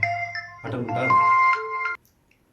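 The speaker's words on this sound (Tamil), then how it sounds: "அந்த பிள்ளை தான்ப்பா ஃபோன் அடிக்கிறா." A mobile phone's melodic ringtone plays for an incoming call, a loud, close tune lasting about a second and a half before stopping abruptly into near silence.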